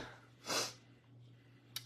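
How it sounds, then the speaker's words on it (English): A single sharp sneeze bursts out in a quiet room, followed by a brief soft breath and a small click. "I'm going to sneeze, sorry."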